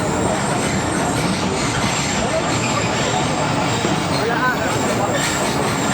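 Continuous rumbling and clatter of a train at Taxila Cantt junction on the Awam Express, a steady broadband roar with faint squeals, a voice speaking over it.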